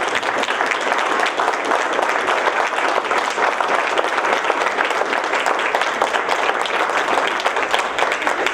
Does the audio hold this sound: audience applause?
yes